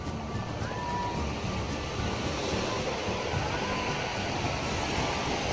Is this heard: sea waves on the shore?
yes